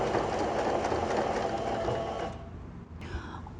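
Sewing machine stitching bias binding along a fabric edge, running in a steady mechanical whir for about two seconds, then stopping and leaving quieter room noise with a small click.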